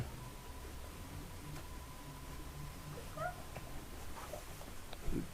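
Cat meows sound faintly against steady background noise, with a short cry near the middle and a louder one toward the end.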